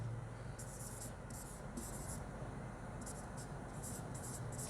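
Chalk or marker taps and scratches on a board in short, brisk bursts over a quiet classroom room tone, faint and close, with a few separate strokes spread across the moment.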